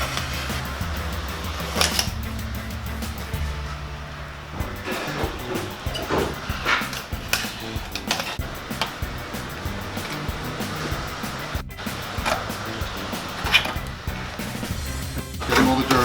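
A brush scrubs heavy dirt from a car's pinch weld around the windshield opening after old urethane cleanup, producing a run of scratchy strokes and clicks in an uneven rhythm, close and moderately loud.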